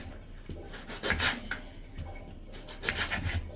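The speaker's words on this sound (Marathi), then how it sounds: "तर आता आपण थोडा अद्रक घेऊया मस्त कापून।" A kitchen knife cuts fresh ginger on a board while a homemade chicken curry is being prepared, giving repeated close, rough scraping and chopping strokes at an uneven rhythm.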